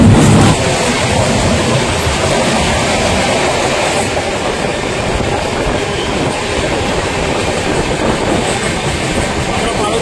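The Darjeeling Mail runs along the tracks at speed, a steady loud rumble with rhythmic wheel clatter and rolling noise heard from inside the carriage, with no talk.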